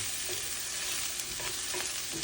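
Onions fry in a skillet for corned beef hash with a steady close sizzle, occasional scrape-like stirs and small pops breaking through, no voices.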